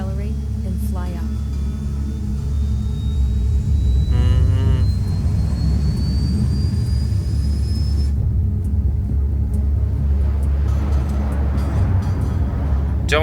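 A jet in the Ace Combat 7 game takes off and flies, its engine rumbling and roaring steadily with a rising whine, while a voice talks over it throughout.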